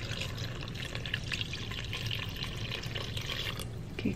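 Water pours steadily into a pot for chicken soup, a continuous splashing rush with small gurgles, fairly close and unbroken throughout.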